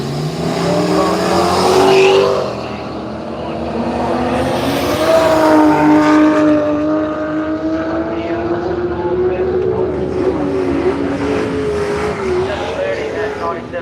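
A little red Toyota Supra drag racing at Willowbank Raceway in Australia roars loudly, its engine pitch climbing through the gears while a commentator talks over it.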